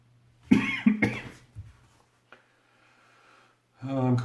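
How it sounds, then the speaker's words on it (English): Two sharp coughs close up, followed by a quieter pause with small sounds, then a voice begins speaking. "oh, I'm coughing because I talk too much."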